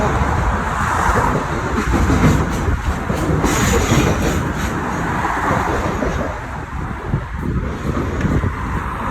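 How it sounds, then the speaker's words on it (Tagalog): Loud, steady rumble and rushing noise of a light rail train passing close up near Government House Park in Edmonton, with faint rhythmic clacking throughout. "doon dumadaan yung LRT"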